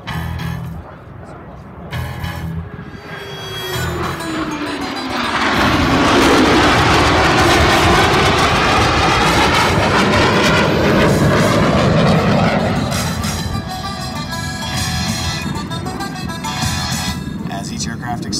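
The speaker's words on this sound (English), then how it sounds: "As each aircraft accelerates to 500 miles per hour, they will perform a reverse." Jet aircraft performing high-speed maneuvers at an air show roar loudly and steadily, swelling to a peak as they pass and then easing slightly. Voices talk over the engine noise.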